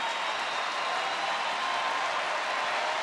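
A packed baseball stadium crowd at a Seattle–Texas game roars and claps in a continuous wash of cheering, dense and sustained with no break.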